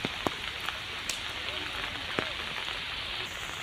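Heavy rain pours down steadily over Jagdalpur in Bastar, a dense continuous hiss with a few sharper splashes and drips near by, no voices present.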